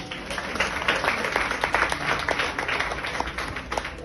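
A church congregation applauds for God during a sermon, a steady wash of many hands clapping with scattered sharper claps, no voices standing out.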